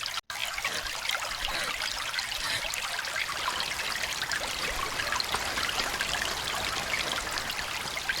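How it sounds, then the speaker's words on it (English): Water in the video game Rule of Rose flows and trickles in a steady, bright, hissing stream that stays constant and close throughout, broken only by a split-second dropout near the start. "the amazingly rendered water"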